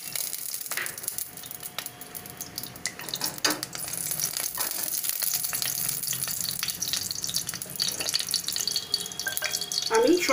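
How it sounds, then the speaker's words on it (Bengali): Marinated chicken pieces frying in oil, a close sizzling crackle that builds and intensifies as pieces hit the pan, with scattered clinks and a voice talking over it. "এবার আমি চিকেনের পিসগুলো, যেটা ম্যারিনেট হয়ে আছে, 20 মিনিট ধরে ম্যারিনেট করেছি, এটাকে ভেজে নেব"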